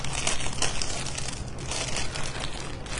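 Crinkly plastic packaging being pulled and torn open close by, a steady rustling crackle for a few seconds with no speech.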